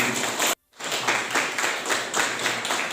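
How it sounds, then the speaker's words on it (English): Brief burst of clapping from an audience at an Indian public event honouring young voters, a round of applause with a short silent gap before the clapping swells and continues. "Please give them a round of applause."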